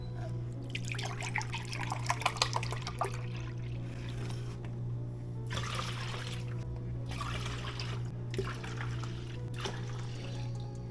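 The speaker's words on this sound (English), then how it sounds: "we're now going to put in 4 cups worth of spring water." Spring water is poured into a chlorhexidine mix in several bursts of splashing and trickling, close by, over a steady low hum, with no talking.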